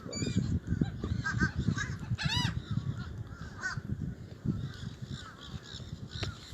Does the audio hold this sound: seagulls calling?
yes